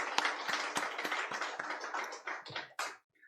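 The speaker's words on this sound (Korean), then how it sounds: "우리 수고해 주시고 귀한 찬양해 주신 플룻 특주팀에게 격려의 박수와 하나님께 영광의 박수 올려드리겠습니다." A church congregation claps for a flute ensemble after its special hymn performance, a dense run of many hands that fades out near the end.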